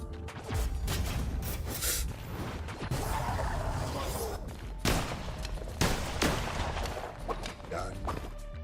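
Gunfire from a weapon in Cult of the Lamb, a run of dense, loud shots and thuds over a steady game soundtrack, with a voice talking over it.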